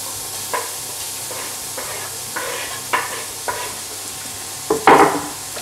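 Onions added to a pan of chorizo oil, frying with a soft, steady sizzle and a few scraping stirs that grow louder near the end.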